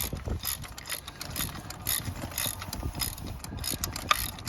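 A socket wrench ratchets on a spark plug in a Jeep engine, giving a steady run of fast, close metallic clicks that keep going for several seconds with no talking.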